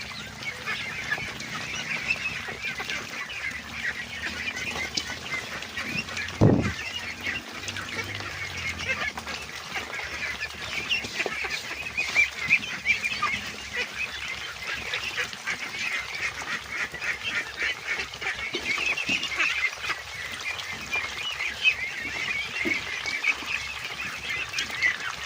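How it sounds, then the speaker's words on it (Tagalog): Flock of pet ducks eating azolla feed mixed with rice bran, a steady chorus of busy dabbling and muttering quacks lasting throughout, close and moderately loud, with one sharp knock partway through. "asula feeding sa ating alagang itik?"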